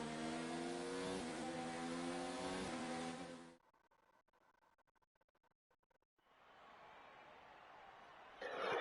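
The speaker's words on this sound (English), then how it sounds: "And there we have engine sound again" Formula 1 race car engine in the game F1 2019 at Suzuka, Japan: a loud harmonic engine whine that cuts out to near silence, then returns as a broad steady roar.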